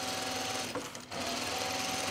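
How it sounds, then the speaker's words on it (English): A sewing machine stitching a French seam to enclose a raw edge, a fast steady mechanical whir with one brief slowdown midway, running close and continuous. "we're just enclosing that raw edge now with our French seam here"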